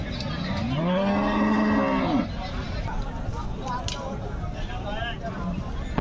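A water buffalo lets out one long, low moo up close at the Pithapuram buffalo market, followed by quieter background ambience with faint voices.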